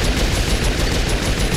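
Rapid gunfire in Saints Row 4 comes as a dense, loud burst of repeated shots with no gaps across the short moment, like a machine gun.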